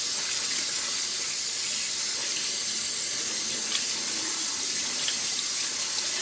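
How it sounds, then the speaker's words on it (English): Cold tap water runs steadily through a fine mesh strainer as rice is rinsed, making a constant close splashing hiss with small spatters and no voices. "When the water runs clear, the rice has been rinsed."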